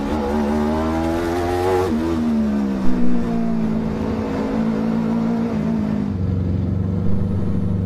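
A race car at the Cremona Circuit revs and weaves to warm its tires, its engine pitch sweeping up and down, loud and near, with no speech.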